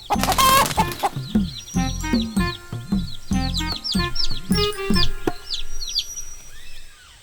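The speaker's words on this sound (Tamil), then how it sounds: "இங்க ஒரு கோழி பண்ணையே இருக்குது." A crowd of cartoon chickens on a chicken farm clucks and squawks in dense overlapping bursts with scattered higher chirps, loud and continuous, fading slightly at the end.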